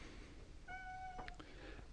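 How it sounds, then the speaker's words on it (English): A house cat gives a single faint, rising meow in a quiet room, with a few soft knocks right after. "Fucking cat just came up and whacked me."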